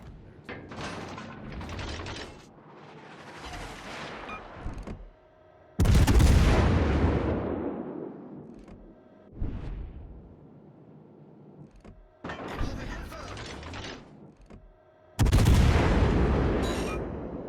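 Heavy naval shell fire from a Montana battleship in World of Warships: Legends: several loud, booming blasts with long rumbling decays, separated by quieter stretches of game noise.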